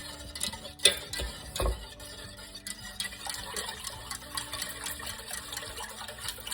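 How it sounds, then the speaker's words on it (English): Vegan cake batter is whisked in a bowl, giving a soft wet swishing with a few sharper knocks against the side, close and fairly quiet, with no one talking. "Whisk, whisk, whisk"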